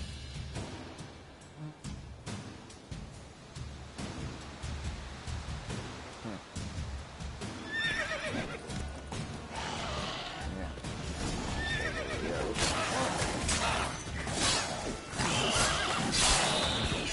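Horse neighing in The Witcher 3 game, whinnies rising over rain-like ambience and hoof clip-clop, moderately near, several calls building toward the end.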